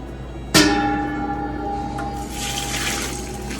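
Liquid poured slowly while brewing an oatmeal stout: a sudden splashing onset gives way to a steady, close watery pour that runs on alone, with a faint ringing tone underneath.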